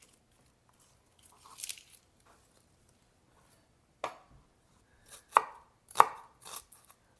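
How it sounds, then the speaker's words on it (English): A knife chopping a shallot into small cubes on a cutting board, a few separate bursts of quick chops with quiet gaps between them. "We're gonna cube the shallot"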